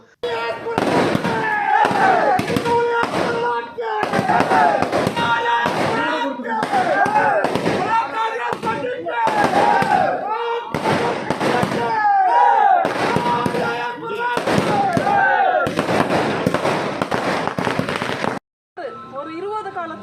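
A rapid string of loud firecracker bangs crackling almost continuously at a celebratory welcome for a legislator in Kodagu, close and sharp, with brief pauses between volleys and a crowd faintly audible.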